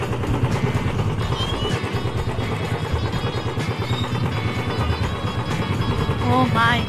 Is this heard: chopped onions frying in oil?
no